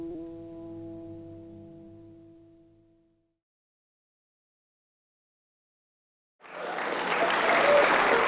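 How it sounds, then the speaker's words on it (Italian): A held harmonic tone fades out, then after about three seconds of silence a crowd at a 1991 magic show in Sermoneta breaks into loud, dense, sustained applause that lasts to the end. "Grazie per gli applausi, basta così"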